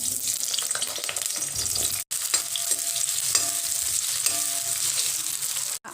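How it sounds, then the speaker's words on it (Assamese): Pointed gourd and potato pieces fry in hot oil in a pan, giving a steady loud sizzle with occasional stirring scrapes throughout, with one short break partway. "তেল গৰম হৈ গৈছে আৰু এতিয়া মই ইয়াত পটল আৰু আলুখিনি প্ৰথমতে ভাজি লম"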